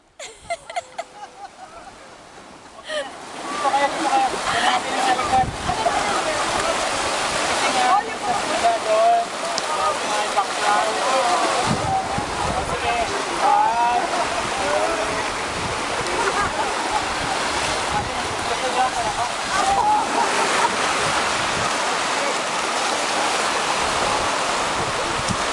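Surf washes continuously on a beach at St. Petersburg, Florida, a loud steady rush of breaking waves after a quiet start, with a voice speaking briefly.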